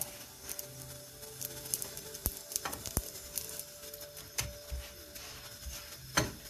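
Msemen flatbread fries and browns in a pan with a quiet, crackling sizzle broken by soft scraping and clicks as it is moved around, faint and close with no talk.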